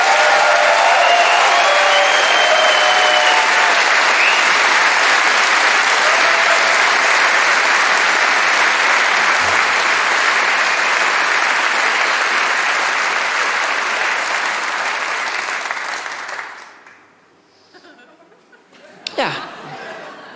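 Broad, loud audience applause at a live comedy and music show fills most of the stretch with steady dense clapping, then fades out near the end, followed by a short burst of sound.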